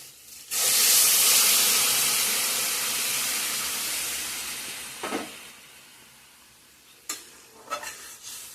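Water hits hot oil and ground masala of cumin, coriander and chili powder in a pan, bursting into a loud sizzle that slowly fades, with a few stirring scrapes and clinks near the end.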